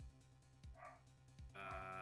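A dog barking in the Apollo Justice: Ace Attorney video game, with several soft, low, regularly spaced barks set against game music and tones, fairly faint in the mix.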